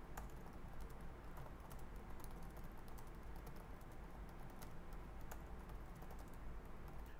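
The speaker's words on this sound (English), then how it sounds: "so let's do our typing test" Steady, continuous keystrokes on an Acer Aspire 5 laptop keyboard, a quick dense patter of clicks held at an even level from start to end with no talking.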